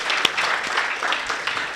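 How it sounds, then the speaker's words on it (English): Audience applause from a crowd, a steady wash of clapping hands that carries through the whole short stretch at moderate loudness, with no voices over it. "Don't clap for him."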